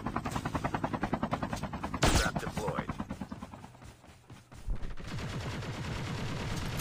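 Gunfire in the Call of Duty Mobile battle royale video game: rapid, regular bursts of shots with a sharp loud crack midway, then quieter stretches before a steady rumble returns.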